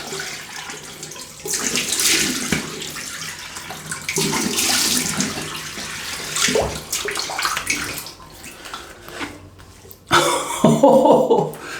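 Running water from a tap splashes steadily during a rinse, a close hiss of flow that pauses and restarts, with a burst of heavier splashing near the end.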